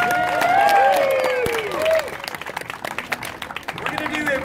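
A street crowd on Pearl Street Mall in Boulder claps and cheers loudly for a performer, swelling at first and then breaking into scattered clapping as someone talks over it.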